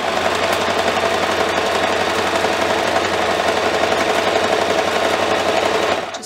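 A sewing machine stitching a straight half-inch seam along a dish towel, forward and back: a steady, loud, continuous mechanical whirring with rapid needle chatter that runs alone and stops near the end.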